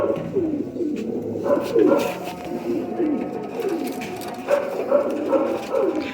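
Old-breed pigeons give soft, repeated coos in a loose rhythm, close by, with someone talking over much of it.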